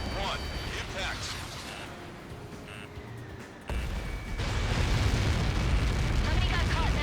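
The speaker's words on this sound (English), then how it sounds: "How many got caught in that explosion?" A massive Helios projectile impact explosion in the air-combat game Ace Combat 7: Skies Unknown, a loud sustained rumbling roar that drops away briefly and then swells again into a broad, heavy blast wash.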